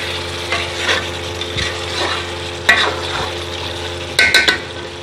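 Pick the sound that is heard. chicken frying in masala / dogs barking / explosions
chicken frying in masala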